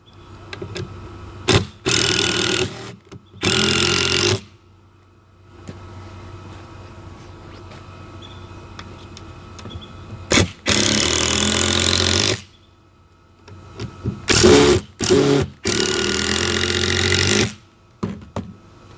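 A power drill drives screws into a wooden farm-style shelf in short, loud bursts of whirring, about six separate runs of one to two seconds each, separated by quiet gaps with faint handling noise.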